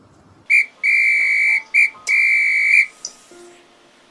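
A whistle is blown in sharp bursts on a theatre stage, two short toots and two longer blasts, loud, shrill and close, followed by quieter faint sounds.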